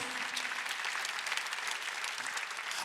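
A church congregation claps together during a Sunday worship service, a steady, dense wash of applause at moderate distance lasting a few seconds.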